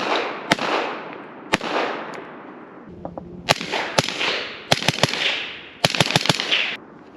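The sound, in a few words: suppressed 300 Blackout rifle gunshots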